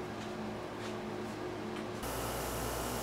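Blue paint sprayed onto a scale model of a starship saucer section, a steady close hiss that keeps up throughout and grows louder and denser near the end.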